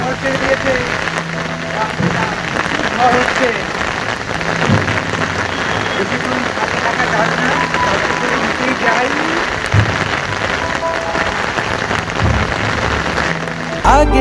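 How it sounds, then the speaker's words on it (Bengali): Heavy monsoon rain pours steadily onto a rooftop garden beneath dark clouds, a loud, dense and continuous downpour with no letup. "বৃষ্টিটা কিন্তু ফিরে আবার এসছে বেশ জোর বৃষ্টি এসছে"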